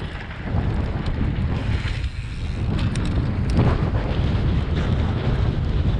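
Strong gale-force storm wind buffets the microphone in a loud, continuous roar during an urban freeride mountain bike session, with gusts swelling throughout and no voices.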